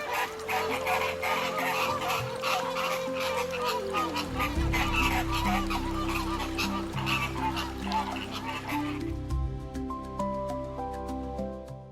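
A flock of flamingos honks continuously, many overlapping nasal calls of varying pitch, loud and close, with a denser clamor partway through and no voices.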